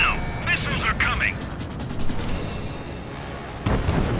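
Aircraft gunfire in the video game Ace Combat 7: a rapid, rattling burst of cannon fire over a rumbling engine drone, with brief radio-style voices before and after.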